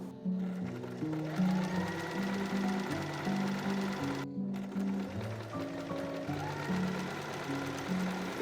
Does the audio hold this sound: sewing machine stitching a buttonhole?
yes